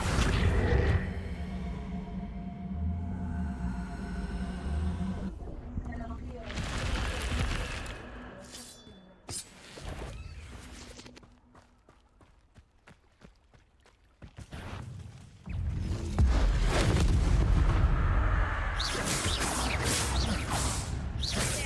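Spells cast in the Hogwarts Legacy video game land as a series of irregular bursts, whooshes and booming impacts, separated by quieter stretches, with brief spoken incantations among them.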